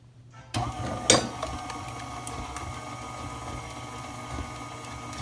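An electric mixer starts up and whirs steadily through red velvet cake batter, a close, even mechanical drone with a few knocks against the bowl, with no talking.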